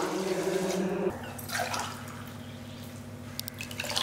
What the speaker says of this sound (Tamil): 5 டம்ளர் அளவுக்கு தண்ணி ஊற்றிக்கோங்க